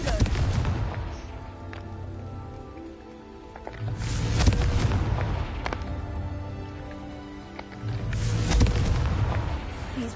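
Three deep, rumbling spell blasts from Confringo go off in a Harry Potter video game, each a swelling explosive boom with a crackling, rain-like tail, recurring every few seconds over steady game ambience.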